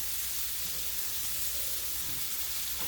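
Sea scallops sear in a hot pan with a loud, steady, bright sizzle that crackles continuously and close up, with no talking over it.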